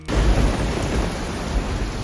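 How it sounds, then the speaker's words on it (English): Heavy rain pours down steadily during a storm in Jaipur, a dense close roar with deep low rumbling thunder running through it, with no voices. "Like really hard. Thunder, lightning, all of it."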